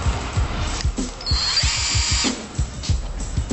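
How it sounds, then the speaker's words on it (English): A power drill boring binding holes into a snowboard, a loud close whirring drone with rhythmic pulses as the bit bites, and a brief higher-pitched spin near the middle. "Drill new holes if you want a custom stance"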